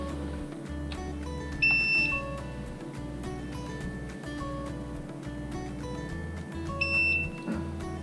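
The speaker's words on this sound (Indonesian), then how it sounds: "Lalu kita hubungkan. Kita nyalakan UPS-nya." A UPS unit switches on and sounds short electronic beeps over a low steady hum, with a couple of brighter beeps standing out.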